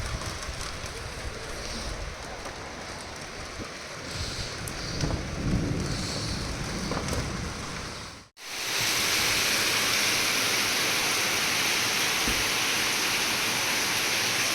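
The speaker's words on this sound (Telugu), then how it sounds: "ఖతర్నాగా పడుతుంది వర్షం" Heavy rain pours steadily in a dense, continuous roar, briefly cutting out partway before resuming even louder and brighter.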